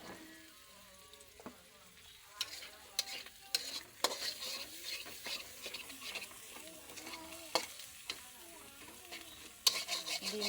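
Two eggs fry and are stirred in a pan, a soft sizzle broken by repeated scraping and clinking stirs, close and fairly quiet.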